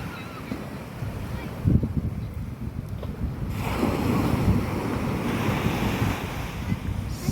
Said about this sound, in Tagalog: Sound of the sea.